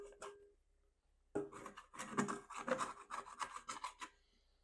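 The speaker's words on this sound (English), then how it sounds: "I'm going to take a dough scraper and just grab all the extra stuff out of my bowl" A dough scraper rasps repeatedly against a bowl, scraping out leftover sourdough bagel dough in a quick run of short, close scratchy strokes after an opening scrape and a pause.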